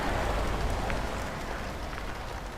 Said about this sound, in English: this is nice to be out in the rain